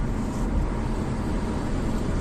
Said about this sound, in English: God, that BMW sounds so mechanical